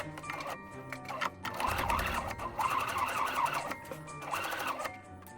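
Sewing machine topstitching fabric for a small doll coat, a steady whirring hum that runs in short bursts with brief pauses in between, close and fairly soft.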